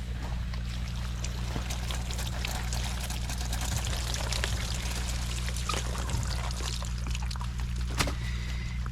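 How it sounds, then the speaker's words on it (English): A garden hose rinsing vinyl siding, a continuous close splashing spray of water with a low steady hum underneath, running unbroken throughout. "I would hose that off"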